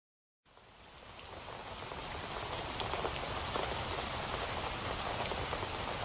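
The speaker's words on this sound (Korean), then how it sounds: "비가 오네." After a short silence, rain starts falling and settles into a steady, dense patter on surfaces that grows slightly fuller and continues evenly, close and uninterrupted.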